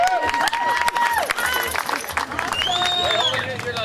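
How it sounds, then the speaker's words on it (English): An audience applauds, with a steady wash of clapping, some cheering and crowd murmur, loud and close, plus a few voices speaking over it. "give him a big round of applause again"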